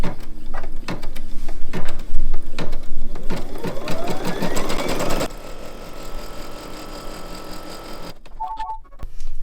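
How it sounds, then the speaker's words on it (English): Embroidery machine stitching a placement line onto stabilizer in the hoop, a loud close rapid mechanical chatter that rises in pitch as it speeds up, runs steadily, then stops before a few faint clicks. "So I'm gonna lower my foot and stitch this directly onto the stabilizer."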